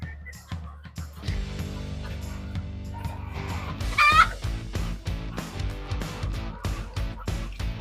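Chickens cluck and squawk nearby as their feed is raked, with scattered bird calls over a steady background bed.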